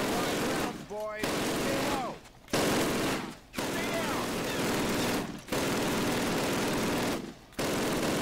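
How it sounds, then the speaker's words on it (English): Sustained machine gun fire in the Call of Duty video game, loud continuous bursts broken by several short pauses, with faint voices briefly audible in the gaps. "Sergeant, fire up those machine guns."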